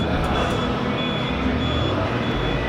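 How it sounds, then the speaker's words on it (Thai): Steady electronic beeping from a Lambretta scooter's turn signal relay, heard over a constant engine hum at a motor show. "มีเสียงรีเลย์ด้วย ปี๊ปี๊บ"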